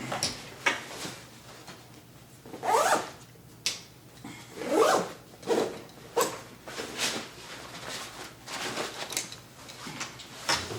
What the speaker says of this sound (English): So I'm gonna get this zip back up.